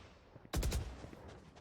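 Burst of gunfire in Valorant during a competitive tournament match, a short loud volley of several rapid shots arriving after a quiet stretch, then fading into low background noise.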